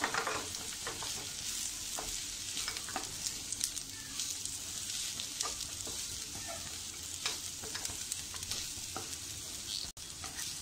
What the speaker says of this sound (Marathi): मी एक छोटी 1 वाटी खोबरं घेतलंय. हे सुद्धा व्यवस्थित असं छान खरपूस असं भाजून घ्यायचं आपल्याला